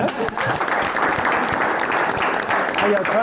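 Audience applause rises at a lively studio comedy show, a dense, steady wash of many clapping hands held at an even level for several seconds with no voices on top.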